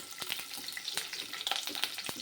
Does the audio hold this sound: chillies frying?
yes